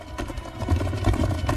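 Horses gallop in a quick, rhythmic drumming of hooves, a dense thudding beat that stays steady and fairly close throughout.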